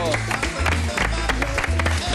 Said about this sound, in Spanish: un aplauso para Sixto